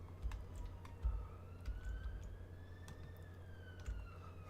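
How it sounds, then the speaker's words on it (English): Wailing ambulance siren in the Cities: Skylines city-building game, a faint rising-and-falling tone drifting in the distance over a low rumble of city ambience, with scattered clicks like keyboard taps. "I can hear more sirens."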